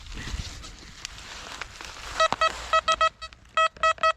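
An XP Deus metal detector sounds its signal tone while searching a well-trodden forest spot, first a hiss of ground noise, then a series of clipped, evenly pulsed high beeps toward the end.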